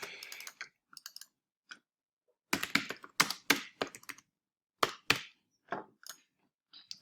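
Keyboard typing and mouse clicks come as sparse clusters of sharp, close taps with quiet gaps between them and no talking.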